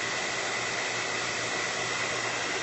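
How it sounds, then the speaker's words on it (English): A hair dryer set on low blows steadily over acrylic craft paint on journal pages, giving an even, close airy whir that stays alone with no talk for its short length. "Just very gently kind of blow it in one direction with the hair dryer."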